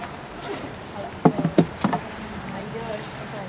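Honeybees buzz at a hive being dusted with powdered sugar for mite control, a steady hum with a few close, louder buzzes and taps in the middle, while people talk quietly nearby.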